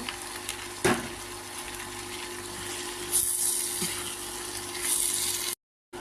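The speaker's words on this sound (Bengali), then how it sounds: "এখন আমি দিয়ে দিব কচুর ফুলগুলো এগুলোকে নেড়ে চেড়ে নিব ভালো করে কষিয়ে নিব" Taro flowers with fish and spices fry in a pan, a steady close sizzle broken by a few sharp knocks and scraping stirs, with the sound cutting off abruptly near the end.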